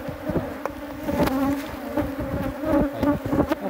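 Many honey bees buzz steadily at an open hive during an inspection. The hum is close and continuous, with short higher whines as single bees fly past.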